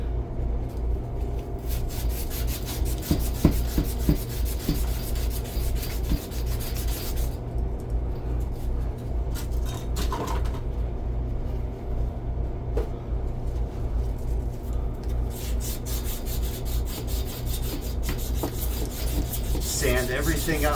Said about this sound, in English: Sand everything up really good.